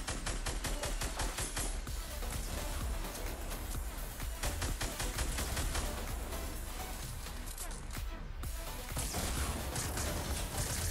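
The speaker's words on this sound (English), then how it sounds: "Throw some cover fire down." Sustained gunfire from a first-person shooter video game rattles continuously for several seconds, dense rapid shots layered into a steady loud fusillade with no pause.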